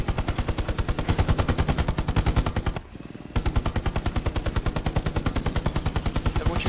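Rapid automatic gunfire in the World War II shooter Hell Let Loose, a dense continuous burst of loud shots that breaks off briefly, then resumes at the same fast rhythm, with no voices.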